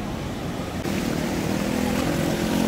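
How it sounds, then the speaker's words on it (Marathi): Sea waves wash in at high tide on Murud beach in Dapoli, a steady broadband roar of surf that holds loud and continuous, with a slight rise after the first second. "परत भरतीची वेळ असल्या कारणाने समुद्राचं पाणी वाढत आहे"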